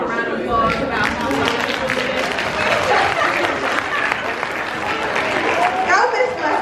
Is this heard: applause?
yes